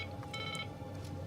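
A telephone rings faintly indoors in short tonal bursts, set low beneath a steady, noisy background hum.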